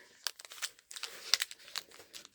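A foil Pokémon card booster pack torn open by hand, with a close, quiet run of sharp crinkles and rips in short bursts and no talking over it.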